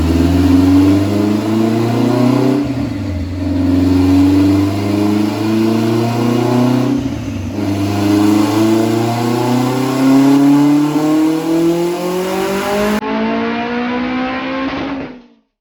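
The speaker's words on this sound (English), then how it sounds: "this is my 1993 Honda Accord EX station wagon" A 1993 Honda Accord EX station wagon revs hard through the gears, the engine note climbing steadily, dropping briefly at two shifts, then climbing again before cutting off. It is loud and close throughout, with no talk.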